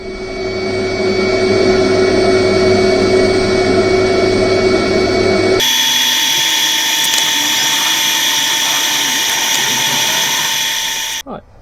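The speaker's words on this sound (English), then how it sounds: "we'll use the 400 grit and sand it back again." Turned wood spins on a lathe while being sanded with 400 grit sandpaper, a loud steady motor whine with a rubbing hiss that changes pitch midway and cuts off at the end.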